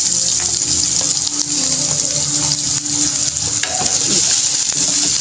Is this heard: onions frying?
yes